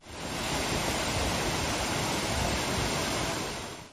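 Tortum Waterfall in Erzurum pours in a steady, dense roar of falling water, loud and close, constant for the whole stretch with no voices.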